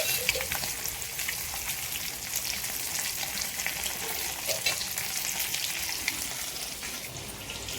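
Murrel fish fry in hot oil with a steady close sizzle and crackle that holds evenly throughout, with no talking.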